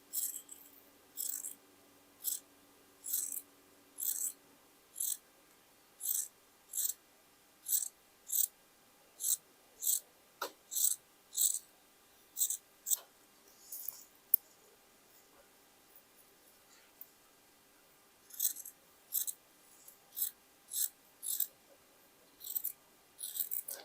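Scissors snip through a label on a sweatshirt during dressmaking, heard as a long series of sharp, evenly spaced crisp cuts with a short pause midway, close and clear with no talking.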